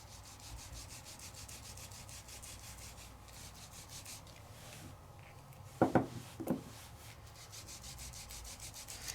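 Luster wax being rubbed by hand onto embossed paper for a Sizzix papercraft project, a soft steady rubbing and scuffing texture throughout, with two brief louder knocks near the end.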